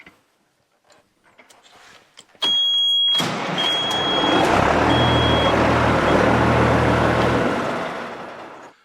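A John Deere 9RX tractor engine cranks over and fires up close by: a sudden loud burst, then a heavy steady roar with a deep droning rumble underneath that fades slightly at the end.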